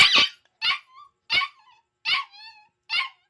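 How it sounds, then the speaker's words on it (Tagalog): A dog barks in five sharp, evenly spaced bursts, some trailing into short whiny yelps, close by with quiet gaps between. "Hindi siya tahol ng tahol."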